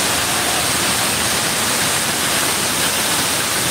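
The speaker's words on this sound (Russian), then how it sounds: "А потом уже идут вот этой ватербластером." A high-pressure water blaster washes surfaces with a steady, dense hiss and roar, loud and continuous throughout, with no talk.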